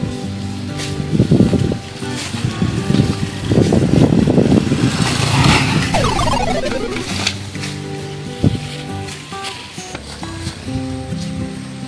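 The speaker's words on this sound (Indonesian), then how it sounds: "itu bocah bawa motor gak kira-kira" A motorcycle ridden recklessly roars past, its engine swelling loud over a few seconds and then fading away among other nearby sounds.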